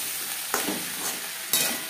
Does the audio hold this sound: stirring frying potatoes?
yes